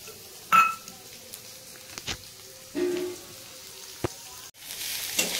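Washed, drained mung dal hitting a hot pan for frying, giving a soft sizzle with a few brief louder bursts and clatters over a steady low hiss, close by, with no voices.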